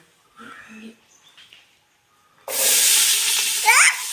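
Chopped onions hit hot coconut oil in a home kitchen and set off a sudden loud, steady sizzle close by that holds to the end. A few faint voices come before it.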